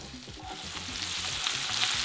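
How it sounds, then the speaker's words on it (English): A spoon stirs seafood jollof risotto in a pot, giving a quick, close run of scraping strokes over a steady sizzle that lasts about two seconds. "I want to give it a little bit more stir. Our risotto is coming along quite well."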